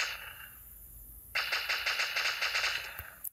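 Automatic AK5 rifle fire in the mobile shooter game Maskgun, a rapid burst of evenly spaced shots starting about a third of the way in, loud and close, ending with a few scattered game sounds.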